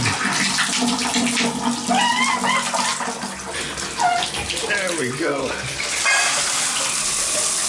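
Hot water pours from a shower head set about 6'4" high in an apartment bathroom, a steady broadband spray that holds throughout while someone talks over it.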